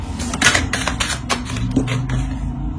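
Tarot card drawn from the deck and laid down on a table, a quick series of crisp taps and soft card slaps, close and clear, with a light scraping shuffle in between.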